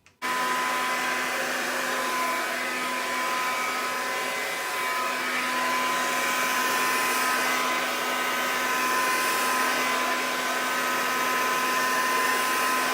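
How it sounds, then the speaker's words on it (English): A handheld hair dryer blows steadily at close range while thick hair is dried at the roots, a loud, continuous whooshing hum with a faint whine that holds for the whole stretch without any talking. "While I'm blow drying my hair, I'm mostly gonna focus on my roots."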